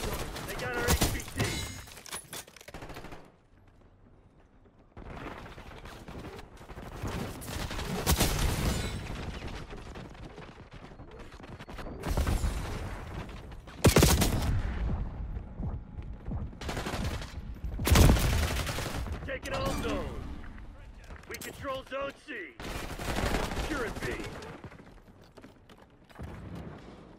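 Bursts of gunfire and explosions from Call of Duty Black Ops multiplayer, with loud fusillades and booms at irregular intervals. Radio voice callouts come through between the shots.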